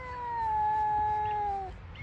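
A cat gives one drawn-out, steady meow, close and clear, lasting under two seconds with no talking around it.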